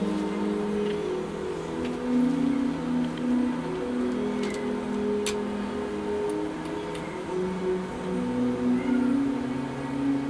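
A cat meows indoors in a series of drawn-out, tonal calls over about ten seconds, fairly close, with light ticking and faint background noise around it.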